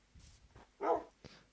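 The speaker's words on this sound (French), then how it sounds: "ah, ça c'est un chien" A wolf or dog in the video game Minecraft barks once clearly, with a few fainter yips and huffs around it in a quiet scene.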